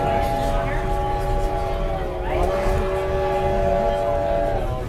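A Virginia and Truckee Railroad train rolls along, heard from on board: a steady, loud rumble of wheels under sustained tonal whistle-like tones that swell briefly twice.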